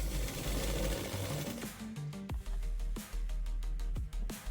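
A sewing machine stitching pleats into skirt fabric, running in short bursts with a loud rapid mechanical whir, pausing briefly between runs with sharp clicks as it stops and restarts.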